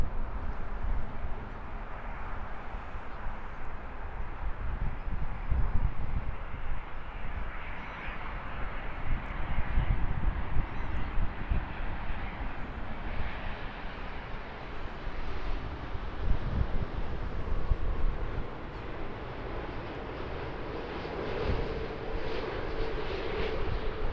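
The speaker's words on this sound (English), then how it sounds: "This aircraft coming in from its test flight." A Boeing 787 jet approaching Auckland airport on return from a test flight, a sustained steady engine roar with broad rushing noise and some wind buffeting on the microphone, continuous for the whole stretch.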